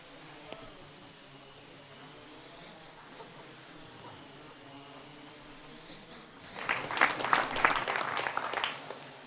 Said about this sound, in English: 20 milliseconds later, the whole process is repeated until the quad strikes the ball.